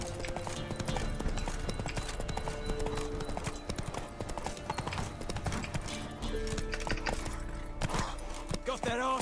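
A horse's hooves clip-clop steadily in The Witcher 3: Wild Hunt, a continuous trotting rhythm under loud game music, with voices speaking over it.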